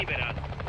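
A helicopter in a video game gives a steady, rumbling rotor drone for under a second, with a voice talking over it.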